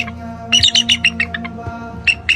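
Several birds squawk and chirp in quick, loud bursts up close, with short gaps between calls and no one talking.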